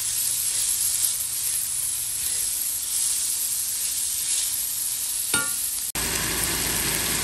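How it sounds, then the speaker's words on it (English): Onion sautéing in a pan for a portobello mushroom sauce gives a steady broadband hiss and sizzle throughout, with a brief clatter near the end before the sound shifts to a quieter texture. "I'm adding the onion. Also saute for 3 to 4 minutes."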